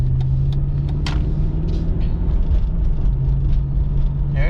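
A 2001 Mercedes ML430 (W163) in limp mode, its automatic transmission shifting gears while driving: a steady low engine hum and road rumble with subtle shifts in tone, close and moderately loud.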